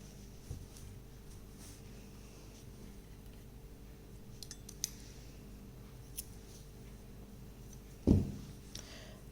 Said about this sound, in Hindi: यहाँ पर हम धागा काट देंगे